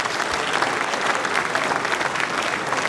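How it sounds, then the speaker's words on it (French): An audience applauding at a municipal New Year's greetings evening, dense steady clapping from a crowd filling the room throughout. "On peut les applaudir"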